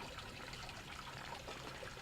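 A garden waterfall at an entrance runs steadily, a faint even trickling and splashing wash of water with no voices over it.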